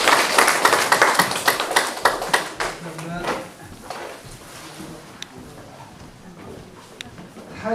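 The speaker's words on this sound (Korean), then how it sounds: "박수 한번 주세요" Lively audience applause at a humanities lecture, dense clapping that is loud at first and then thins out and fades over several seconds.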